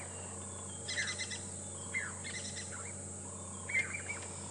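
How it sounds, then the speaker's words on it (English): Jacobin's cuckoos call while flying past on a morning safari drive at Djuma and Arathusa: three short, thin, rising calls at about one-second intervals, faint and moderately distant over a steady insect hum. "Those are Jacobin's cuckoos that flew past that you could hear calling."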